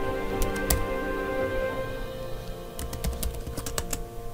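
Keys clack on a computer keyboard as a search query is typed into Google Scholar, a close, quick run of clicks in two clusters separated by a pause, over a steady low hum.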